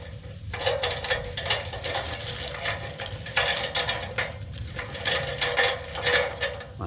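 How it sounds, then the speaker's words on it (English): Rope fed through the pulley of a Werner extension ladder gives a run of quick ratcheting clicks and rattles in uneven bursts, close up and moderately loud. "And here's your pulley. I'm going to run this through here."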